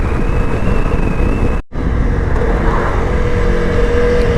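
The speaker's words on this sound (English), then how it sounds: "Keep her pinned and let's ride, like Brock says." A dual-sport motorcycle holds full throttle on an open desert highway at about 69 mph, its engine and wind roar steady and loud, cut by one brief dropout midway.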